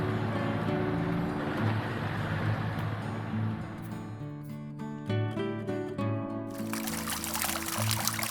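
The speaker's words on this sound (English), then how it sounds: "Filling my water bottle up at the fountain here" Water from a public drinking fountain in rural Spain pours into a water bottle, a close gurgling stream whose pitch rises as the bottle fills, then an open splashing rush.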